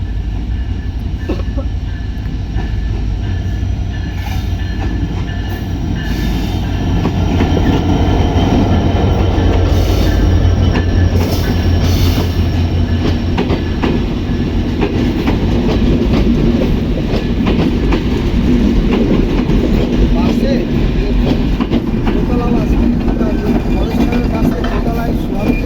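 Passenger train on the Rajshahi route passing close by, a loud rumbling approach that grows into sustained clattering wheels and rail noise with metallic squeals, while people talk nearby.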